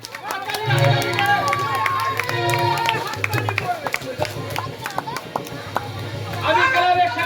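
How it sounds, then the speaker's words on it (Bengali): A small crowd at a club prize-giving claps in scattered, uneven bursts, mixed with chatter and a voice talking over the clapping. "এই, এবার হাততালি দে, হাততালি দে, হাততালি, হাততালি দে।"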